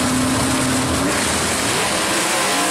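Classic drag race cars at a Christmas-tree start roar loudly off the line together, a steady rising engine drone with a brief high whine, continuous and near, with no voices over it.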